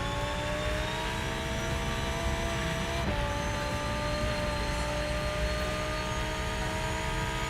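A steady engine drone with layered harmonic tones runs throughout, rising slightly in pitch, like a game car cruising at speed; no voices.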